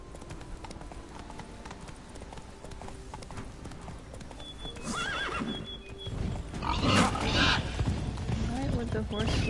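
Horse hooves clip-clop steadily in Witcher III: Wild Hunt, with a neigh rising louder toward the end amid game music and someone talking over it.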